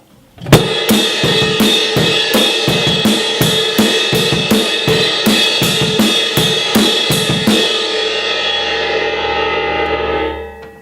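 A steady rock beat played on the edge of a ride cymbal, bright washy strokes over regular kick and snare hits, ending with a long ringing cymbal decay.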